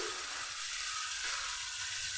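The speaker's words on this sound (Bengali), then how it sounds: "হালকাভাবে আমি নুন হলুদ দিয়ে একটু সামান্য তেলে উল্টে পাল্টে নিচ্ছি" Tangra fish sizzles steadily in a little oil with salt and turmeric, a close, continuous hiss of frying with no voices.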